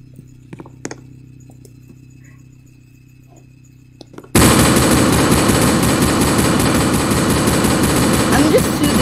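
Rapid automatic gunfire in a Roblox game, a loud, dense, continuous burst of shots that starts abruptly partway through after a quieter stretch.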